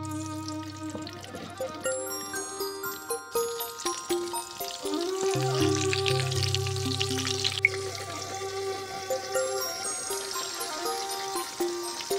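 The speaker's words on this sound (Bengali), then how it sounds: "আর বেগুনগুলো ভাজি করে নিচ্ছি।" Eggplant slices fry in a pan with a quiet, continuous sizzle and some watery bubbling and trickling, heard close with no voices.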